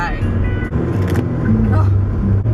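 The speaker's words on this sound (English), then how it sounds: "Welcome to my bumpy car ride." Car rumbling along a bumpy road, steady engine and road noise with jolts throughout, close and fairly loud, with a person talking over it.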